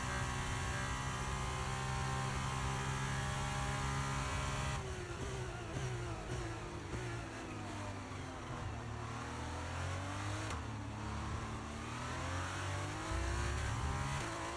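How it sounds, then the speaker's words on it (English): An F2 car in the F1 23 racing game, its turbo engine screaming at high revs with a continuous whine and repeated shifts that dip and climb in pitch, loud and close, with no talk. "The turbo like noises are much more pronounced in the F2 car."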